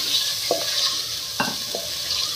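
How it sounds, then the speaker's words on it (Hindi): Chicken with garlic and ginger paste sautéing in a pan for shaljam chicken: a steady soft sizzle with a few distinct scraping stirs of a spoon, close and fairly quiet. "अब फिर इसकी थोड़ी सी भुनाई करूँगी"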